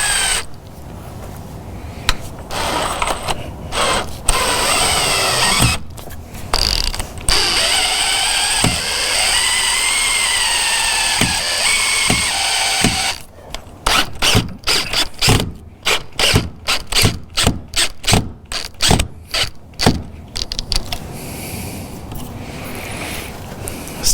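A driver whirs Phillips screws into a door reinforcement plate, one screw stripping. A long steady mechanical whine gives way to choppy bursts and clicking ratchet-like pulses, loud and close.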